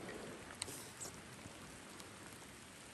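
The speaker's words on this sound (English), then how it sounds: "it's raining here" Faint, steady rainfall patters on an October hiking trail along the Rockwall Trail near Floe Lake, a soft continuous wash with occasional closer drips.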